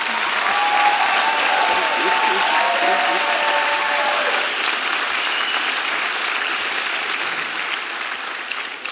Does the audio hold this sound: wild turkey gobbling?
no